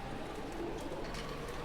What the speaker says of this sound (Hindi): कबूतर यहाँ पे बहुत है, 70 से 80 कबूतर है यहाँ पर अभी शॉप पर